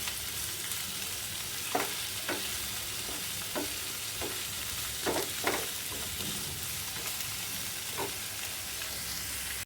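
Chopped tomatoes frying in a pan for an Afghan egg curry give off a steady close sizzle, with spaced utensil knocks and scrapes as they are stirred. No one speaks.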